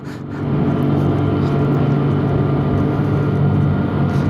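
An old Yamaha FJ 900 motorcycle engine runs at a steady, loud drone with low harmonic rumble, holding an even pitch throughout without voices.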